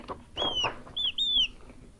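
Several bright bird chirps and whistles ring out in short bursts, a pair early and a longer run later, fairly close over a faint low hum.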